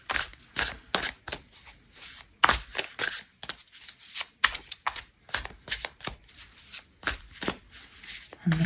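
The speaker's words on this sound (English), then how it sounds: "I'm just gonna grab a card and read it as it comes out" Tarot cards are shuffled and handled close to the ear, a rapid run of crisp riffling snaps and flicks in irregular bursts throughout, with soft speech in places between the card sounds.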